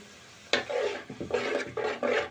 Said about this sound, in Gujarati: હવે આપણે ડુંગળીનો પેસ્ટ સડી ગયો છે એટલે આપણે થોડુંક પાણી નાખી દઈશું અંદર